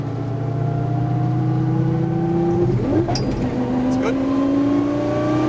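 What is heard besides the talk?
Lamborghini Gallardo LP 570-4 Superleggera engine accelerating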